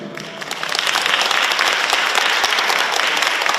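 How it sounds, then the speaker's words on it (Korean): Applause from an audience at a book launch event in Korea, a dense, steady clapping that swells after a short lull and continues loud and sustained. "여러분들 큰 박수 부탁드리겠습니다"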